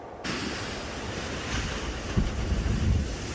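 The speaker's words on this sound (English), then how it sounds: "the sound of the crashing waves" Ocean waves rolling and crashing under gusty wind, a constant roar with a heavier surge near the end, close and fairly loud with no voices.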